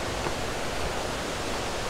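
Thi Lo Su waterfall in Chiang Mai, water pouring down over rocks in a steady, loud, broadband rush with no other sounds.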